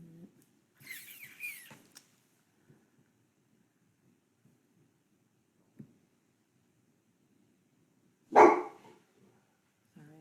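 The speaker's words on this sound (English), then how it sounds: "Sorry, that's my dog." A dog gives a couple of sharp barks, one early and one louder later, separated by near silence and faint background noise.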